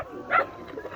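A single short dog bark or yelp rings out at a dog show, moderately close and standing alone above a faint background hum.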